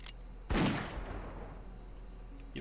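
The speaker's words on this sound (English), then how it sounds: "Are you just firing at nothing?" A single sharp shot from a ranged attack in WoW Classic cracks out loudly, then a long reverberant tail fades slowly into a quiet background hum.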